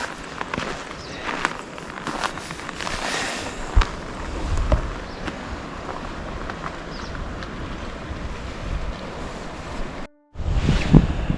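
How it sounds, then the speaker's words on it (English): Winter river rushing below Bow Falls in Banff, a steady broad roar of water heard from the path above, with crunching footsteps on snow and gusts of wind buffeting the microphone; a brief dropout near the end. "I can hear the river"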